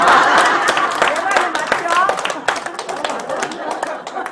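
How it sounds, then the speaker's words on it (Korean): Members of a senior college class run by the Okgwa agricultural cooperative clap their hands in a series of sharp, close claps. The clapping is mixed with lively talking throughout. "여기 뭐 박수까지 치고 그러냐?"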